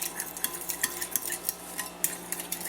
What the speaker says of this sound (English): we're going to go ahead and just stir that in. And I use a fork usually.